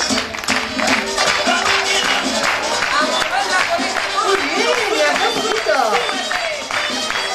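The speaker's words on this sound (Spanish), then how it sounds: "Fuerte ese aplauso." An audience claps for a girl dancing, a busy crowd patter of applause mixed with background music and chatter, with a voice talking over it.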